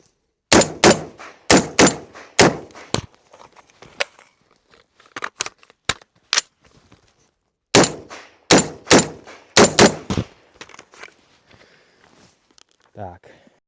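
A Grandpower R308 .308 Win rifle fires in fast bursts during an El Presidente shooting drill, sharp loud close cracks in clusters separated by brief pauses, with a dull metallic handling clunk at the end.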